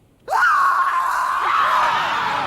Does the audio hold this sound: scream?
yes